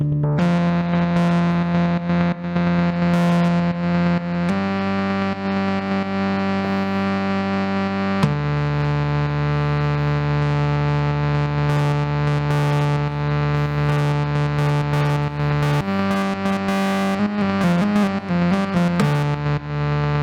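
A steady distorted synth tone from a Eurorack modular system, sample and hold modulating the filter, with a pitch that jumps in random stepped intervals, stuttering faster near the end, continuous and loud.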